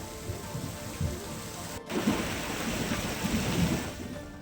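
Heavy rain pours steadily in Navi Mumbai, a dense continuous hiss with low thunder rumbling underneath, broken by a sharp crack near the middle before the downpour surges on, loud and close.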